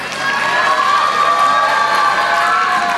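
Audience at the Antaragni-2K22 techno-cultural festival at GHRCE cheering and applauding the winners, a dense, steady crowd roar with shouts and clapping that starts almost at once and holds loud throughout.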